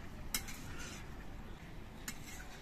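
Faint spatula scrapes and two light clinks as shukto vegetables are mixed with lentil dumplings in a pan, quiet and sparse over a low background hum.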